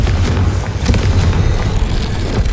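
Confringo fire spells burst in Hogwarts Legacy, a steady run of loud, booming explosions layered over a deep rumbling battle backdrop, with no talk.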